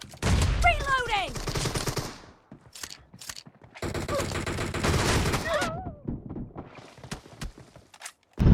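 Rapid bursts of M1014 shotgun fire in a mobile shooter game, loud and close, in two long volleys separated by a short pause, with mechanical clicks and faint in-game sounds between them.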